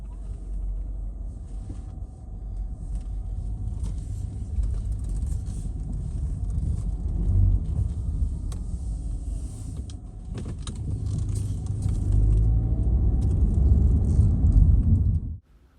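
Car driving through a residential neighborhood, its steady low road rumble and engine hum continuous and fairly loud inside the cabin, swelling slightly toward the end before cutting off.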